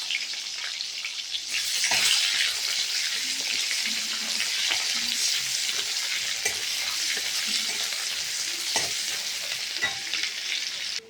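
Onion frying in hot oil produces a loud, dense, steady sizzle that swells just after it is added and continues for several seconds, with occasional spoon scrapes and pops and no voices.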